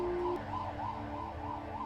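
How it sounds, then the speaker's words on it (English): Fire sirens wail in the night during the 1972 Agnes flood in upstate New York. The siren rises and falls in a steady, fairly faint cycle over a low background rumble. "the fire sirens were sounded to summon us back to the fire station"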